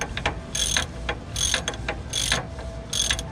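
A hand ratchet working a brake caliper fitting during a dual-caliper hydraulic e-brake install on a 2000 Camaro Z28/SS F-body. It gives four evenly spaced bursts of rapid clicking, close and clear, with no talk.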